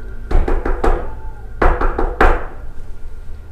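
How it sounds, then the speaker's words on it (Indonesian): Knocking on a wooden door used as a sound effect in a spoken horror story: a quick burst of about four sharp knocks, a pause, then three more, close and loud with no voices. "Suara ketukan ketiga kembali terdengar."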